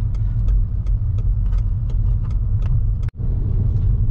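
A car driving along a village road, its engine a steady low rumble close by with faint rhythmic ticking over the top, broken briefly by a sharp thump near the end.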